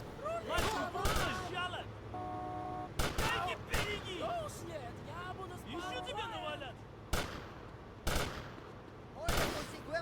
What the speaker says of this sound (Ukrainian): Що вони одне з одним стріляють?